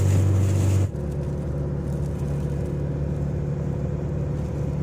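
A car engine pulls up a steep mountain road in low gear, a steady, close, low droning rumble that shifts slightly after the first second and then holds even to the end.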